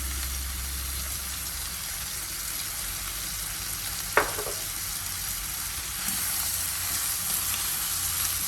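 Minced beef fries with chili sauce and soy sauce in a pan, a soft, even sizzle and hiss that runs steadily throughout, with one sharp utensil tap midway and faint stirring.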